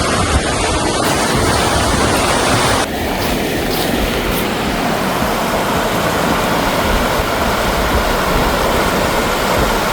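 Fast flowing river water at a narrow crossing point on a Scottish hill walk, a loud steady rushing roar filling the scene with no voices.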